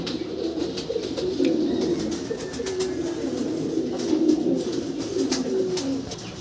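Domestic pigeons in a pigeon house coo continuously, a layered, warbling low murmur from several birds at close range, with occasional light clicks and rustles and no speech.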